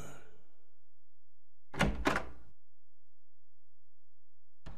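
A door in Silent Hill 3 opens with a short double thunk and creak near the middle, loud against near silence, followed by a faint click at the end.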